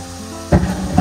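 Pork mince with tomato frying in a pan, a quiet lull that breaks into a close burst of sizzling and stirring noise partway through.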